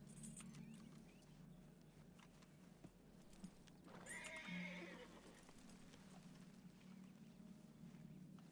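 Hoofbeats from a horse in Red Dead Redemption 2 clop steadily throughout, with a single whinny rising near the middle, all over a constant low ambient hum.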